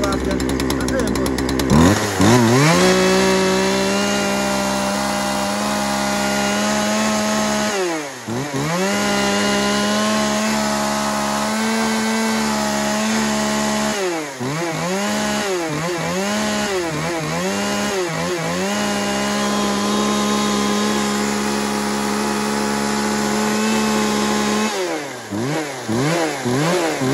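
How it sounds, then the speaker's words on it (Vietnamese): Swedish mid-range chainsaw revving and cutting wood, a loud continuous buzzing engine with repeated drops and rises in pitch as the throttle is released and pulled again. "Các bác nào muốn mua con cưa Thụy Điển cắt tầm trung"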